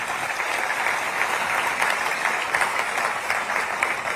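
Audience at a police event launch ceremony clapping together, a dense, steady round of applause close and even throughout, with no voices over it.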